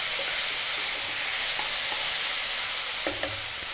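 Mushrooms sizzling loudly in a pan as they release their liquid, a dense, constant hiss broken by a few light stirring clicks near the end.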